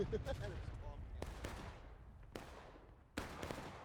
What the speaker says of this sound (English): cannons going off